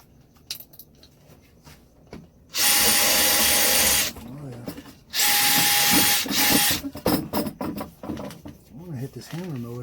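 A DeWalt 20V Max brushless compact cordless drill drilling in two loud, sustained bursts of high-pitched whine, separated by a pause. Rattling and clinking handling noises come before and after, with a person talking between the bursts.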